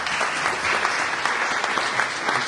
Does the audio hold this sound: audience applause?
yes